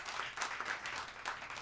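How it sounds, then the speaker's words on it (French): An audience claps and cheers for a live music stage at a Quebec music show, a dense steady patter of applause with a few brighter bursts, moderately near and continuous throughout. "On l'applaudit!"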